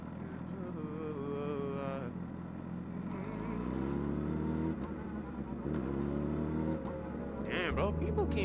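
Traffic at night heard from a Yamaha R6 motorcycle ride: a steady engine drone with a nearby vehicle exhaust rising and revving, someone talking over it.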